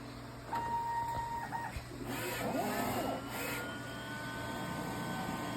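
A DTF printer runs a nozzle check, with a steady mechanical hum, short whirring motor passes and a clear electronic tone early on, then the print carriage sweeps back and forth, all fairly close and with no talking.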